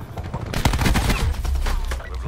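Gunfire from the Black Ops 4 video game, dense bursts of shots packed close together under a continuous loud wash of game sound, with faint voices mixed in.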